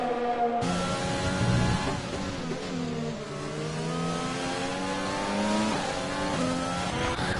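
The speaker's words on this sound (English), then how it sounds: "I just want you to hear the engines" Formula 3 racing cars in a PlayStation racing game at a Netherlands round scream past, their high engines revving and shifting in a continuous loud drone with rising and falling pitch, with no talk over it.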